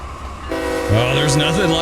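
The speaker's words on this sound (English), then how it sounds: "there's nothing like rolling into Cordell with a heavy tonnage train and going down this hill" A heavy 10,000-ton phosphate freight train in the Run 8 train simulator rolls steadily downhill on the Fitzgerald Sub, a loud horn blast rising and holding over the continuous rumble of the cars.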